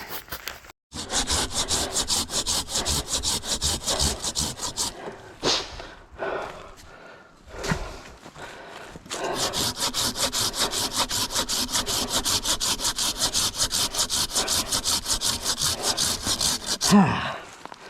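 Wood being sawn by hand for firewood outdoors by a lake, with long runs of steady rhythmic rasping strokes, close and loud, broken by a short pause with a few irregular scrapes before sawing resumes.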